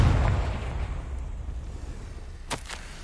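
A Confringo blasting spell detonates in a Hogwarts video game, opening with a loud, deep boom that rolls off into a long, fading rumble, then two short, sharp crackling bursts near the end; no one speaks.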